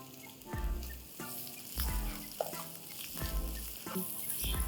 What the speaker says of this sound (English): Let's saute this on medium flame till it just kind of begins to turn golden brown in color